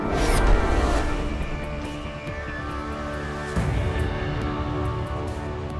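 The Overwatch defeat music cue plays, a dense orchestral swell with sustained chords and crashing accents, loud and continuous.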